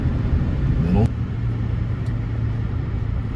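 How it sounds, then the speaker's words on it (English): A salt truck drives along Bethlehem Pike during a winter storm, its engine a steady low rumble with a brief louder passing swell at the start, heard alongside road noise. "So here's a truck out salting now on Bethlehem Pike."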